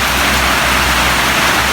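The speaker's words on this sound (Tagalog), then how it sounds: "Masyado nang malakas ang ulan dito sa amin." Heavy rain pours down in a dense, constant hiss, loud and close with no gaps.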